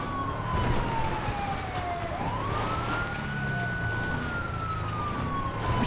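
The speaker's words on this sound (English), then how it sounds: "it's turning my sirens on and off" A wailing siren of a police car in GTA 5 sweeps down, then climbs and holds a long rising tone, loud and continuous over a steady engine rumble.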